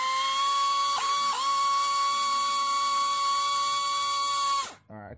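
A compressor-driven air ratchet removes oil pan bolts from a 2000 Honda CR-V, giving a steady, piercing pneumatic whine with two brief dips, then cutting off abruptly just before the end.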